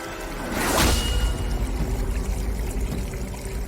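Water runs from a tap in a house in a Bengali TV drama scene, a steady rushing pour that surges at first and then continues evenly.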